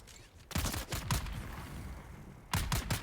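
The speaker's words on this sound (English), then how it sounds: "He seems to be a rifle enemy." A rifle-armed enemy fires in the video game Dune Awakening, in Hagga Basin: quick clusters of sharp shots break out, fade to a low hum, then a fresh volley hits loud near the end.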